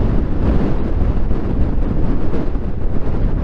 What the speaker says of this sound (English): Gives you a sense for the winds blowing through here.